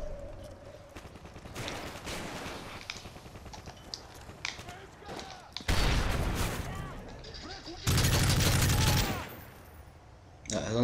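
Call of Duty Modern Warfare 3 gunfire in the Lockdown mode: scattered shots and rapid automatic bursts, with loud dense volleys around 6 and 8 seconds, while a player speaks Spanish in between.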